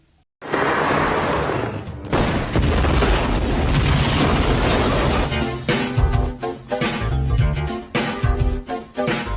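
A bomb in a car trunk explodes in a 1998 Rush Hour film scene, a sudden loud boom followed by a sustained roar of blast and debris, then clattering crashes and scattered impacts.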